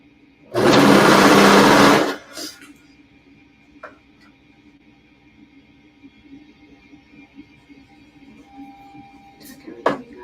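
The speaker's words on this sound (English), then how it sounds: "I don't know how to turn that corner on the serger, so I'm just gonna" A serger overlock machine stitches fabric in one loud, close burst of about a second and a half, then stops, leaving a quiet room with a few small handling clicks and taps.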